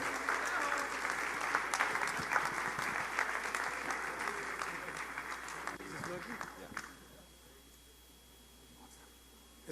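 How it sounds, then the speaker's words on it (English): A hall audience at the opening ceremony of the 7th World Zoroastrian Youth Congress warmly applauds the president of the Federation of Zoroastrian Associations of North America, with dense, sustained clapping that stops sharply after about seven seconds, leaving quiet room tone. "Please give him a warm round of applause."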